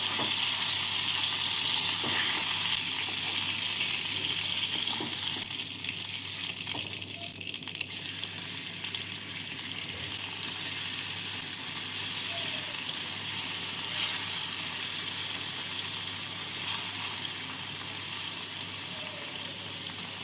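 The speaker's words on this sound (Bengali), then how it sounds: "পনিরগুলোকেও লাল করে ভেজে নেব একদিকটা ভাজা হয়ে গেলে উল্টে দেব" Pieces of paneer fry in hot oil in a pan, giving a loud, continuous, even sizzle and crackle that holds steady throughout.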